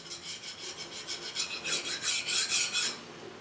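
A Japanese kitchen knife edge drawn over a sharpening stone in a single pass to clean up the microbevel, heard as a rasping scrape of quick strokes that swell louder toward the end before stopping.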